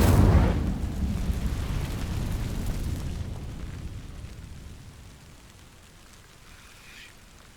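The Incendio fire spell ignites dry vines in the Hogwarts Legacy video game, opening with a loud whooshing burst of flame that roars on and then slowly fades over several seconds.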